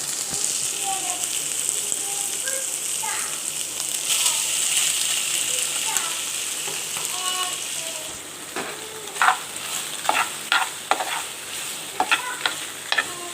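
Pasta is stirred into cooking chicken mince over a very low flame, a soft sizzle at first, then a run of close scraping, clacking stirs toward the end.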